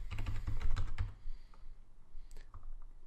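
Keys on a computer keyboard tapped in a quick burst as a password is entered, then a few scattered, fainter clicks after a pause, nearby and without voices.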